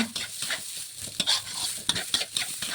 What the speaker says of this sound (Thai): เรานำข้าวลงมาผัด